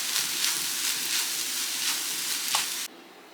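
Egg thoran with sprinkled chili powder sizzles steadily in a frying pan, with soft repeated scraping strokes as it is mixed, before the sound cuts off abruptly near the end.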